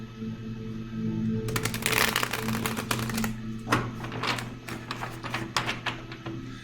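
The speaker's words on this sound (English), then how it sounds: "So the shuffle feels good." Tarot cards are shuffled in quick riffling bursts, with a few crisp flurries followed by scattered softer card snaps over a low steady hum.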